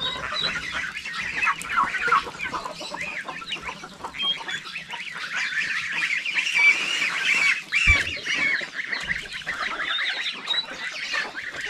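A flock of geese honks continuously around a pond on a farm, overlapping nasal calls from several birds at close to moderate distance, steady and busy without pause.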